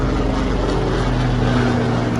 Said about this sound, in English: There's a helicopter coming on overhead, so we're gonna just let that one pass on by.